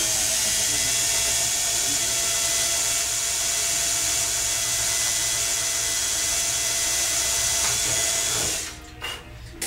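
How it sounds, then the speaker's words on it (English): Small power drill with a 1/16 inch bit boring one hole in a model aircraft build, a steady high whine that runs continuously and then cuts off near the end. "And I'm going to drill one hole."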